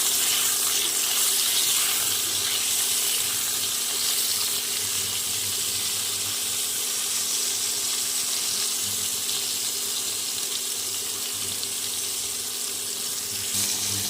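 Eggplant pieces fry in a pan with salt while being stirred, a loud, steady hiss that runs unbroken throughout with no talking.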